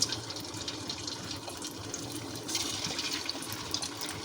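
Suji snacks are dropped one by one into hot oil, producing a continuous bubbling, watery hiss that swells slightly midway, moderately loud and without talk.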